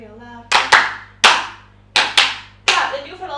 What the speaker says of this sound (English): Come on, everybody, and clap your hands real loud.